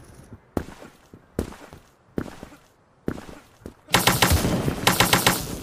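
Close-range gunfire in the Krunker.io shooter game: four separate loud shots spaced about a second apart, then a dense, rapid burst of fire in the final seconds, with no talking.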